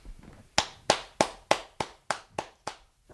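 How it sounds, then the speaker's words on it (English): About eight sharp hand claps from a small group in a podcast studio, evenly spaced and close, with no talking. "I think that deserves a round of applause"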